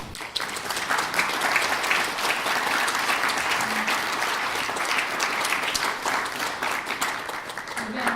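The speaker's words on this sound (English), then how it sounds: "We'd like to have all the folks who volunteered with the program who are here tonight stand up so we can all give you a round of applause." An evening audience at a youth entrepreneurship investor panel gives program volunteers a sustained round of applause, a dense, even wash of clapping from many hands that holds steady for several seconds before thinning near the end.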